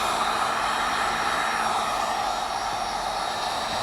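A heat gun blows hot air over shrink wrap on a print mat, producing a steady, loud, close hiss with an airy roar that holds throughout with no voices.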